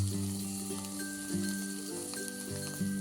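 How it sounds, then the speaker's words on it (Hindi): Turmeric, Kashmiri red chili and other spices fry in a pan for Kashmiri palak paneer, making a soft, steady sizzle with light stirring under a sustained tonal background. "साथ ही साथ हम इनको चलाते रहेंगे ताकि ये नीचे से चिपके नहीं"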